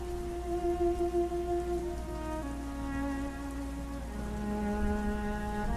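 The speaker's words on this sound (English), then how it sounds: "Rain overnight." Steady rain falls overnight as a continuous dense patter, with sustained tones holding above it throughout.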